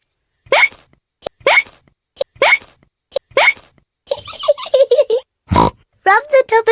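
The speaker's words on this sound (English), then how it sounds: "George's hiccups are spoiling the game." A cartoon piglet in Peppa Pig hiccups four times in a steady rhythm, loud and close, followed by a character speaking and a snorting oink.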